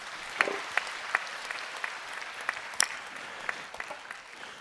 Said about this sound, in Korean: 우리 수고하는 청년들 박수로 한번 격려해 주시기 바랍니다